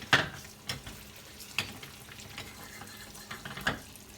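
An egg frying in rendered foie gras fat, a steady sizzle broken by sharp crackles and pops that flare up now and then, close by.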